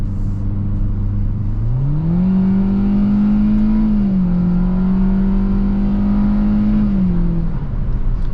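A 2022 Hyundai Venue's engine hums low, then its pitch climbs as it accelerates in sport mode, holds a steady drone, dips slightly and settles back down; no talking.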